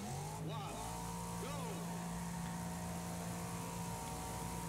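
Race car engine in the Wreckfest video game on an all-gravel track, a steady droning whine that holds its pitch with a couple of brief revving sweeps, joined by other engines in the background.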